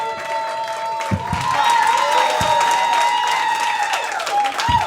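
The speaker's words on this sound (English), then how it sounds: "Keep it going for LOL." Audience applause and clapping building and filling the room at a stand-up comedy show, with a sustained musical tone and some voices over it.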